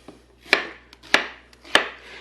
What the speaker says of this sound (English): so again, we're just rough chopping that.